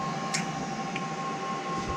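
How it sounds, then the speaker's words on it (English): A CNC mill facing an intake manifold plate for a Toyota MR2 2GR-FE engine: a continuous, even machine hum with a thin steady whine, a couple of faint brief ticks, and no breaks. "here's what we're milling right now"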